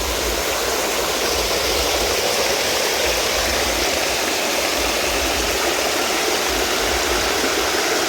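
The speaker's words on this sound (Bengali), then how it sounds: "ঝর্ণা কিন্তু পানিগুলো পড়তেছে, খুবই শব্দ হচ্ছে।" A waterfall in Dinajpur pours down in a steady, loud, unbroken rush of falling water that fills the whole clip, with no voices heard.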